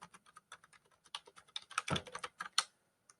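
Typing on a computer keyboard while working in Microsoft Word 2019, a steady run of close, crisp key taps with a few louder strokes near the end, then quiet.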